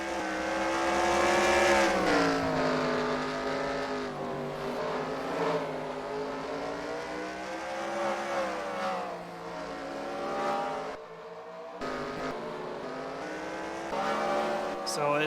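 Race car engines from NASCAR Racing 2003 drone and rev continuously on a dirt oval during the Chili Bowl Nationals, their pitch rising and falling as the cars circle, under a commentator talking throughout.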